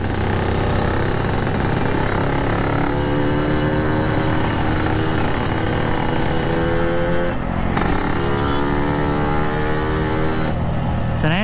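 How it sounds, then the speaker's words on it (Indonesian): A two-stroke Yamaha RX King motorcycle engine runs loud and steady, with rising pitch sweeps as it revs through gears while riding, wind noise constant throughout. "Sebenarnya 2 tak suaranya tuh enak banget boy ya."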